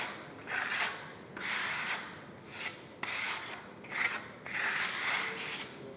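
A trowel spreads a first coat of decorative plaster over a wall surface, making repeated rasping, scraping sweeps in uneven strokes, close by, with no voices.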